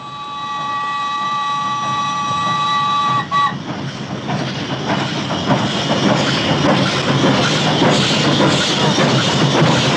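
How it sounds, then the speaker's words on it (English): A train rolls along the track in a 1972 Western film scene set around Pancho Villa, a steady loud rumble and rattle of wagons building after a brief whistle-like tone at the start, with no talk. "But, sir, Villa's train is on our track."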